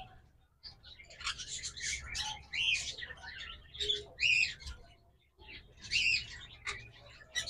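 Pet lovebirds and cockatiels kept for sale chirp and tweet in quick, bright bursts, fairly close and moderately loud, with short pauses between flurries of calls.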